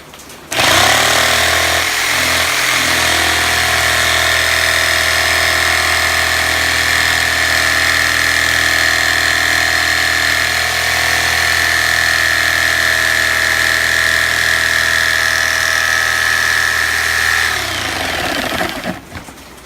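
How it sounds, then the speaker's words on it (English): A loud power saw cuts through wood clamped to a larger board, following a traced pattern for a vintage riding horse repair. It runs steadily for about seventeen seconds, close and continuous, then winds down. "So next step is to set up the saw and cut this out."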